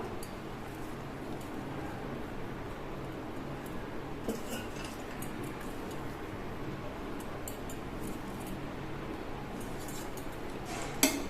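A spoon stirs 65-style pulav rice with chopped coriander leaves in a pot, giving steady soft scraping and occasional light metallic clinks, close and fairly quiet throughout.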